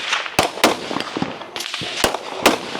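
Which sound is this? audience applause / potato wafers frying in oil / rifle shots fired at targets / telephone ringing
rifle shots fired at targets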